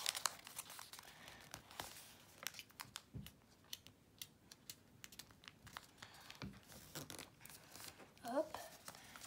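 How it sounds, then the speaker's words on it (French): Paper is creased and folded by hand into an origami flower, producing close, faint crinkles and crisp rustles in short scattered bursts, with a soft voice speaking now and then. "là on va plus redéplier, on va plier comme ça"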